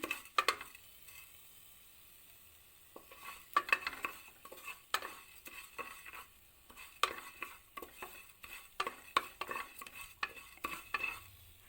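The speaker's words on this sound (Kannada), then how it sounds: "ಈಗ ಜೀರಿಗೆನೂ ಹಾಕ್ಕೊಳ್ಳೋಣ ಇದರಲ್ಲೇ" Ginger and cumin go into a pan with garlic and cinnamon for a drumstick-leaf soup, and a spoon scrapes and clicks in repeated bursts over a faint, low sizzle, close and quiet.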